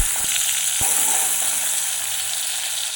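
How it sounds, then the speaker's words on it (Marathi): Tomato hits hot oil in a kadhai for a village-style potato curry, giving a loud, steady, close sizzle throughout, with a couple of brief knocks from the utensil near the start. "टोमॅटो टाकून घ्यायचा अगोदर."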